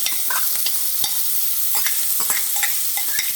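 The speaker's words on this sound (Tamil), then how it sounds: "அடுத்தது நறுக்கி வச்சுருக்கிற வெங்காயத்தை போட்டுக்கலாம்" Chopped onions sizzle and crackle steadily in a hot pan, with sharp clicks of stirring scattered throughout; no voices.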